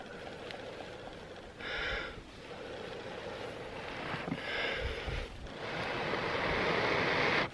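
Breath is blown in several bursts onto a smouldering tinder nest by a lake in the mountains, producing breathy rushing gusts close to the microphone, separated by short pauses.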